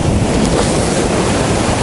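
Large waves breaking against breakwaters by a rusty railing on the Sochi coast at Khosta in December: a loud, continuous roar of surf mixed with heavy wind buffeting the microphone.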